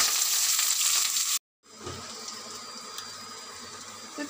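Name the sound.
onions frying in mustard oil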